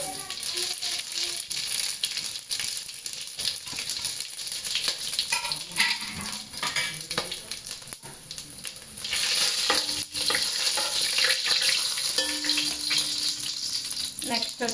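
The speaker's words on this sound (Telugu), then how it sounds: "ఇప్పుడు బిర్యానీ స్పైసెస్ అన్నీ యాడ్ చేసేద్దాం ఆయిల్లో." Biryani spices frying in hot oil with a constant close sizzle, rattling stir strokes and clinks of a utensil against the pan, growing louder midway; a voice speaks over it at times.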